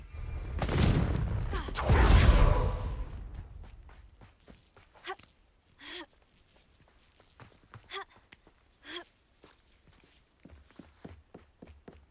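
A Confringo fire spell cast in Hogwarts Legacy bursts out as a loud, roaring whoosh that swells twice in the first few seconds and fades. Scattered footsteps and soft thumps follow in a quiet setting.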